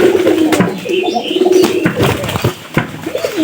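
Pigeons kept by a keeper coo close by, a series of soft, throaty rolling coos overlapping one another, with occasional faint chirps and small rustles.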